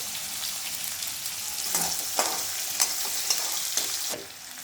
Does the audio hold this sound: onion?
yes